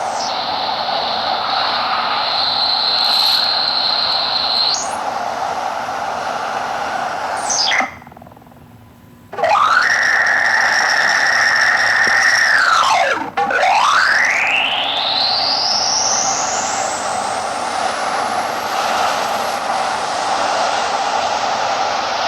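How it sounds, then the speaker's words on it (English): A White Noise EVP Recorder app runs white noise through effects, giving loud hissing noise with steady electronic tones, a brief near-silent dropout, and sweeping, swooping pitch glides that rise toward the end. "So there's these effects that you could apply to the white noise sounds"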